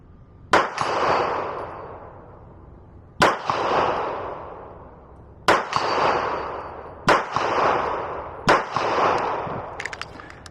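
Five sharp pistol shots from a Taran Tactical JW4 Pit Viper crack out at uneven intervals at a range, each followed by a brief ringing echo, with a few small clicks at the end.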